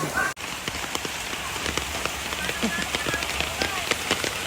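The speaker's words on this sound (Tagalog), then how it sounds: "grabing lakas ng ulan" Heavy afternoon rain pounds a surface in a dense, constant hiss with scattered louder drops; a voice is faintly audible beneath the downpour.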